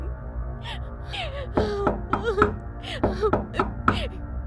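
A woman's anguished wailing and sobbing, broken into rising, quavering moans and gasps, close and loud, with no words spoken.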